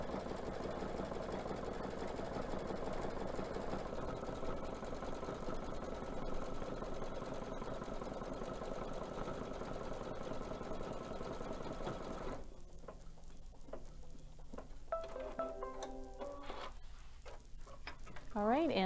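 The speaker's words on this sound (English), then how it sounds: "So it goes around it to do sort of an underlay stitch" An embroidery sewing machine stitches an underlay stitch around a tree design, a steady rapid mechanical whirr that runs for most of the clip before it stops, followed by brief clicks and a voice.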